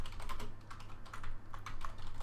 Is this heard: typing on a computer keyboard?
yes